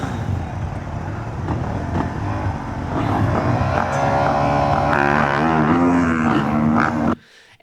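Eli Tomac's motocross bike on the starting line in a pro motocross race, held on a mild low-power start map, making a loud, steady engine drone that rises slightly in pitch before cutting off abruptly at the end.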